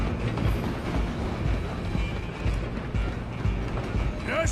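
A train runs in Red Dead Redemption 2, with a loud, continuous rumble and rattle of rolling railcars and faint clicking, heard alone.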